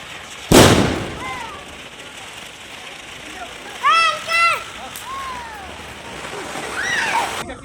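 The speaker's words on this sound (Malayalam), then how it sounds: "എല്ലാവരും ക്വാർട്ടറിന് വെളിയിലിറങ്ങി പടക്കം പൊട്ടിക്കാനൊക്കെ തുടങ്ങി." Diwali firecrackers bursting outdoors around residential quarters in Hyderabad in the evening: one loud, sharp, close bang followed by distant pops and crackles, with people talking throughout.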